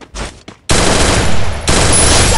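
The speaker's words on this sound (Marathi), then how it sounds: "MP40 धोका नको देऊ." An MP40 submachine gun fires in the Free Fire mobile game: a few short shots, then two long, loud bursts of rapid automatic fire, with no voice over them.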